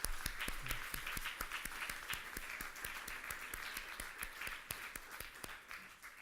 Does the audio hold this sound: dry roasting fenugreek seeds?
no